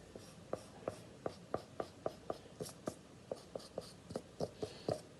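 Pencil strokes rub across paper as guidelines are lightened before crayon coloring, a steady run of about twenty short, crisp scratches in an even rhythm, close and fairly quiet with no talk.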